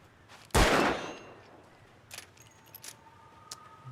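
Gunfire in the video game Alan Wake: one loud, sharp shot rings out and decays, followed by fainter clicks and metallic rattles, no talking.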